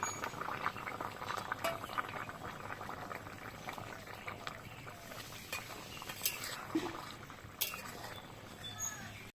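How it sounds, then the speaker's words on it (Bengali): Koi fish curry broth with potato and eggplant at a steady rolling boil in a pot, continuous bubbling and popping throughout at moderate closeness, no talk. "দেখো ঝোলটা খুব ভালোভাবে ফুটে গেছে, আর এদিকে আলু বেগুনটাও ভালোভাবে সেদ্ধ হয়ে গেছে।"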